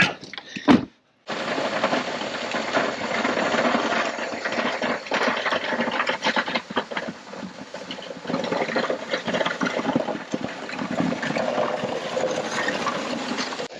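A 6420 tractor with 8,000 hours clearing a driveway: a steady, close, rough engine and mechanical roar that keeps going for the whole stretch after a brief pause near the start.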